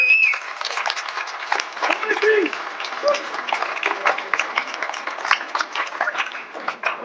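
An audience at an evening ceremony in Ploërmel honouring local athletes and volunteers claps steadily and densely for several seconds, the applause rising and falling, with a few voices and brief whistles mixed in.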